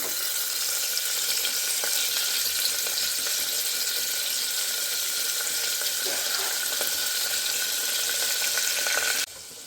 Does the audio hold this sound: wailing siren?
no